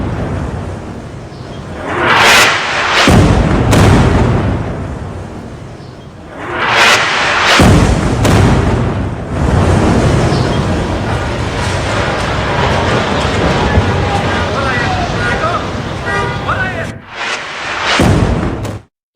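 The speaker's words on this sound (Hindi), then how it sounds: "इस बिल्डिंग में देखिए आकर मिसाइल गिरी और पूरी बिल्डिंग" A missile strike on a building in Lebanon during Israeli attacks on Hezbollah, heard as loud, heavy explosive blasts and rumbling debris in bursts, with continuous roaring noise between them and a final sharp boom.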